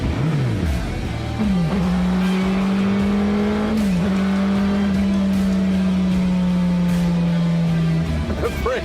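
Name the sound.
Superbike-powered Pulse motorcycle riding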